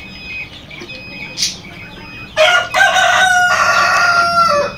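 At a poultry farm keeping laying hens, soft scattered clucks and chirps give way to a loud, close rooster crow that stretches on for a couple of seconds.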